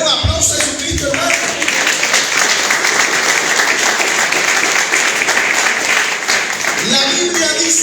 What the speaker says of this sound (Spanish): Den un aplauso a Jesucristo